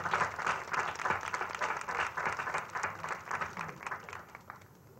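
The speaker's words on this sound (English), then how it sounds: "Let's give them all a round of applause." An audience at a county tribute ceremony applauds state champion high school teams, with steady, dense clapping that holds for the whole stretch and eases slightly at the end.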